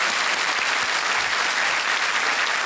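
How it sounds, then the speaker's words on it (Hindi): Studio audience on a KBC game show clapping in welcome for a contestant, a dense, even round of applause sustained from start to finish with no voices over it. "तालियों के साथ इनका स्वागत करते हैं।"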